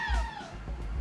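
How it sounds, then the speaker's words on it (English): A pet cat gives a single short meow, close and fairly clear, with a gliding upward-then-falling pitch in a quiet room. "Oh, that's my cat."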